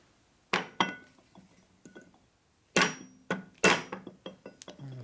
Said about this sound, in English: You just knock them out with a hammer is all you do in these tapers.